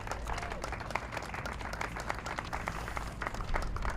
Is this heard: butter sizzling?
no